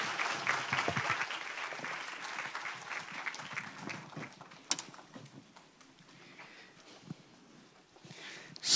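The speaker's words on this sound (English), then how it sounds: "마음을 담은 따뜻한 박수로 모시겠습니다" Applause from a worship-service congregation at a world mission conference welcoming an evangelist to the stage, clapping strongest at first and thinning out, with a few clattering bumps and faint voices.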